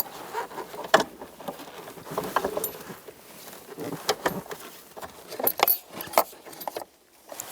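Parking brake cable on a 2005-2014 Toyota Tacoma being pushed through the cabin carpet and pulled forward: a run of scraping, rustling and clinking bursts, close and moderately loud, with sharp rattles and brief pauses.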